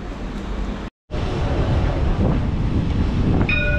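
A tram rumbles past loudly and continuously along a street in Oran, Algeria, with broad rolling noise, a brief cut near the start, and a faint metallic squeal of wheels toward the end.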